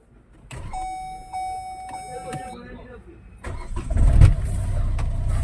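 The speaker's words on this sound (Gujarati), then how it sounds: "પુશ સ્ટાર્ટથી ગાડી આ બટન દબાવીએ એટલે જો ગાડી ચાલુ થઈ જાય" A car with a push-start button sounds a few electronic chime tones, then its engine cranks and catches at close range with a loud rumble before settling into a steady idle, with voices heard briefly.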